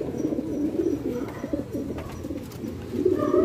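Homing pigeons coo steadily inside a loft, several birds overlapping in a soft, continuous low burble with no breaks.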